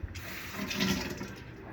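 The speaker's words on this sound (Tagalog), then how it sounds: "patutuluan na natin ng tubig." Water runs and splashes steadily into a cooking pot holding chicken, bamboo shoots and a little ginger for a Chinese-style soup, close by and alone, with no talking.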